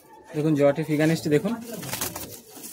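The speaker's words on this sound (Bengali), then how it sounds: "উড়ন্ত পায়রা, খাঁচার মধ্যে থাকে না, ওই জন্য এরকম লাফালাফি করছে।" Madras flying pigeons, kept loose rather than caged, coo and stir close by while someone talks over them throughout.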